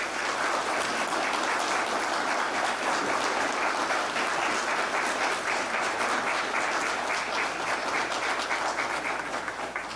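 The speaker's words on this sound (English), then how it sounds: "Could we please offer a round of applause for Lieutenant Colonel Gale?" An audience at a veterans' honouring event at the Billy Bishop Museum applauds, sustained dense clapping that holds steady for ten seconds with no speech over it.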